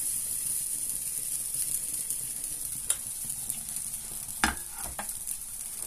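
Potato and cheese galettes fry in oil in a pan with a steady, close high hiss, punctuated by a few sharp clicks and clatters of a utensil, with no talking.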